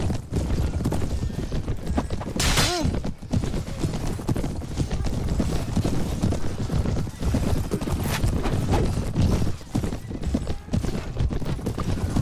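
Horses gallop in Mount & Blade: Warband, with steady dense hoofbeats and a loud battle din throughout, plus a brief neigh early on.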